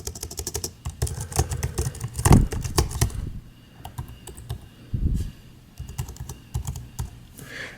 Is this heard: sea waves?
no